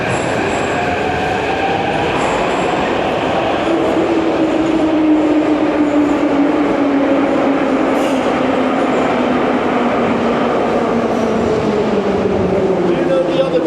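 A Kyiv metro train rumbles loudly and steadily from inside the car, with a motor whine gliding down in pitch and faint wheel squeal over the constant roar.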